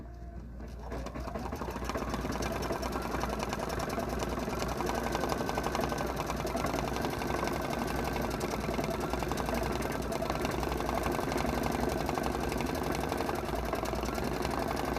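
Sewing machine stitching down a quilted fall mug rug, a steady fast mechanical whir and needle chatter that runs continuously and close after a quick start.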